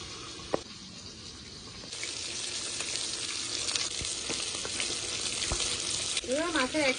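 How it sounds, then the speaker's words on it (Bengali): Rohu fish pieces fry in hot oil with a steady, moderate crackle, joined by a few sharp clanks and a brief squeaky scrape near the end as they are turned. "মাছের এক সাইড ভাজা হয়ে গেছে, উল্টে দিচ্ছি"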